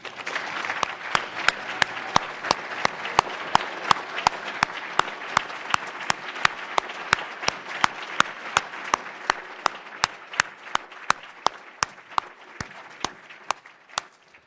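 An audience at an annual meeting applauds new members and fellows with steady, lively clapping, while a regular series of sharp, loud clicks punctuates the applause throughout.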